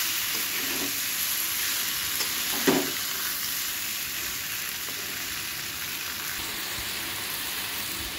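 Chopped vegetables frying in a pan with already-fried eggplant for a fish curry, a dense continuous sizzle like light rain, with one brief stirring clatter and no voices.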